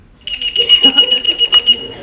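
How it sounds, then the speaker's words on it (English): A burglar alarm goes off indoors, a loud, high electronic beeping that pulses rapidly and repeatedly for under two seconds, with a voice briefly underneath. "they don't hang around once an alarm goes off"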